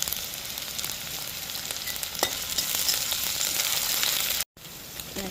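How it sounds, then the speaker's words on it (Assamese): Spices, onion and ginger-garlic hit hot oil in a pan, giving a steady close sizzle and crackle with brief stirring clicks and a short dropout near the end. "সেয়া পাঁচফোৰণ দিছোঁ, সেয়া পিঁয়াজ দিছোঁ, সেয়া আদা নহৰু দিছোঁ"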